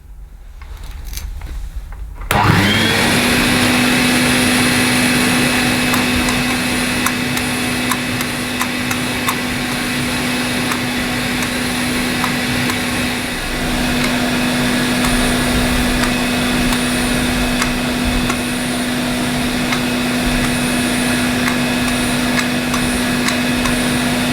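A vintage Hoover 417 cylinder vacuum cleaner switches on after a short quiet start and runs with a loud, steady motor whine and airflow rush. The tone holds throughout with small dips in strength.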